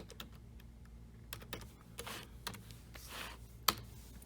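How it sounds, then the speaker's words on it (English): Keys tapping on a computer keyboard as an ISBN number is entered in a kindergarten classroom, scattered quiet clicks in an irregular rhythm with one sharper key press near the end, close by and no talking. "So I'm just going to go over and type that in."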